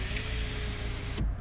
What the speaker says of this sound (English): whereas now get the full working sunshine roof